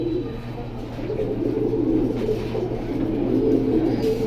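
Young pigeons kept for sale, cooing in a low, continuous rolling murmur that fills the whole stretch at steady moderate loudness, with no talk over it.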